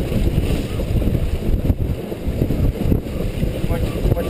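Strong wind gusts roar across a sailboat under heavy sail, a dense, continuous rushing buffet with low-end rumble throughout, close and loud.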